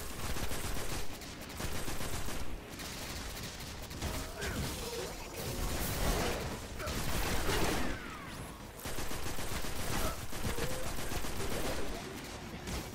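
Auto rifle fire in Destiny on Xbox One, bursts of rapid shots coming in several stretches over other combat effects and whooshes, fairly loud and close.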